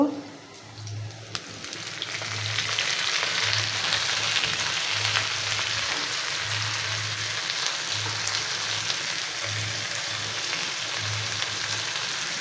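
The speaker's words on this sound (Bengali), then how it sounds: "এর জন্য শাকটাকে এখানে ভেজে নেব। এখানে পেঁয়াজ, কাঁচামরিচ, রসুন দিয়েছি, দিয়ে একটু ভেজে নেব।" Leafy greens frying in a pan with onion, green chili and garlic give a steady, close sizzle that continues throughout, with a low hum pulsing underneath.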